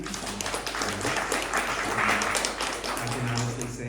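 An audience at a poetry consortium event claps in a steady wash of applause while a voice speaks over it.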